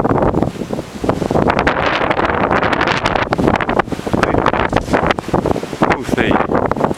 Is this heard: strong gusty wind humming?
yes